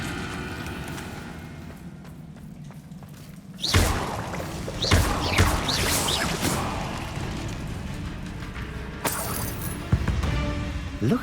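Depulso force spell cast in Hogwarts Legacy, a sudden forceful burst around the four-second mark followed by crashing, clattering impacts and swooshes, then another sharp hit near the end over a low ambient background.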